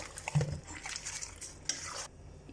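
Dahi bhalla ingredients are gently stirred together in a bowl, producing soft, close scraping and light clinks of a utensil against the dish with a few wet squelches, all brief and fairly quiet.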